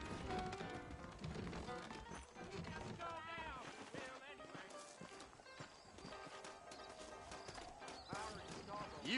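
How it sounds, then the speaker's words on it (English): Horse hooves clip-clop steadily beneath constant talking and background music in the video game Red Dead Redemption, with a saddled horse whinnying partway through. "I got the horses saddled up and ready out front"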